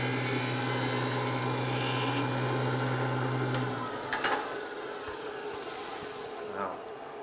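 A negative rake scraper rubs against spinning wood on a lathe, making light refining cuts over a steady motor hum that drops away partway through, followed by a few brief scraping touches.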